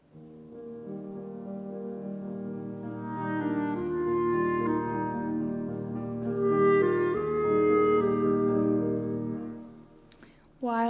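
Clarinet with accompaniment playing the recurring theme from the first movement of Saint-Saëns' Clarinet Sonata at a benefit concert, a smooth legato melody swelling and softening over held chords, moderately quiet.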